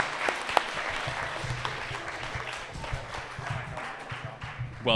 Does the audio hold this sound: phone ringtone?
no